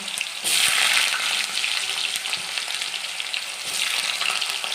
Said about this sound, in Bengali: ছোটো ছোটো করে আলু কেটে রেখেছিলাম ওগুলোই দিলাম।